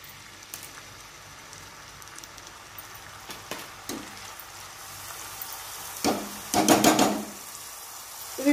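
Grated onions fry in hot oil with a steady soft sizzle, a few scattered clinks, and louder crackling bursts near the end as the pan is worked.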